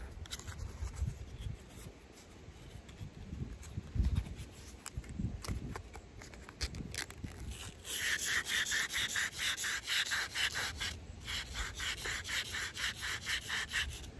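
Sandpaper rubs a metal part from an arcade or pinball machine in a steady abrasive scrubbing that settles into fast, regular strokes and grows louder and brighter in the second half.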